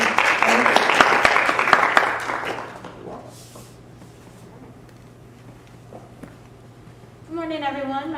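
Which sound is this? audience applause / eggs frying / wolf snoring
audience applause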